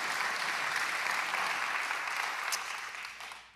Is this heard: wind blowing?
no